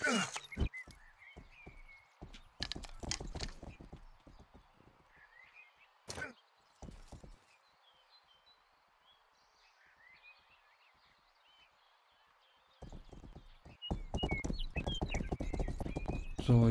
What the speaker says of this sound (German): Dann nehmen wir sein Pferd.